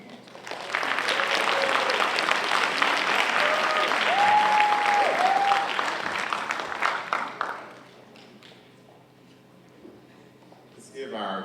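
Audience applause for graduates at a university School of Education hooding ceremony, a sustained dense round of clapping lasting about seven seconds before tapering off, with some talk and a few tonal sounds mixed in.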